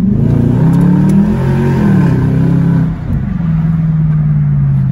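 BMW 645ci engine revving loud and close after a manual-mode downshift, the tone climbing and falling through a strong surge before settling into a steady drone.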